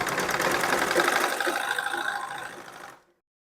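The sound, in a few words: sewing machine stitching piping on blouse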